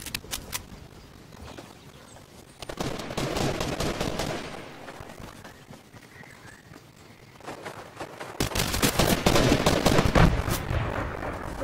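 Fortnite gunfire in the video game, with bursts of rapid shots that start, fade and return louder over a background of faint game noise and footsteps.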